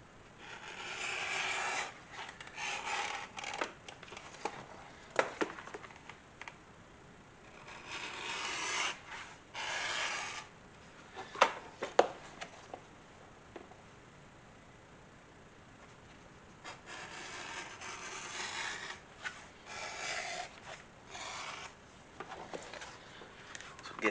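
The edges of a leather guitar strap are beveled by hand, bursts of dry rasping strokes repeating with short pauses between them, close and fairly quiet, no voice.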